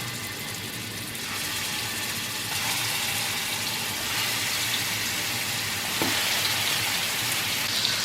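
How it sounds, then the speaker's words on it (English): Meatballs dropped into hot avocado oil set off a broad, crackling sizzle that rises in steps as more go in, steady and close, with a faint clink partway through and no talking. "Alright, so I'm going to start dropping in my little meatballs."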